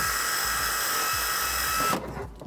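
A thread tap driven into a bolt hole on a 1994 Chevy 350 cleans the threads with a steady, high, close whine for about two seconds before cutting off abruptly.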